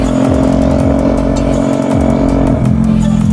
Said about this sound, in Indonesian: knalpot racing, jadi suaranya cukup bising ya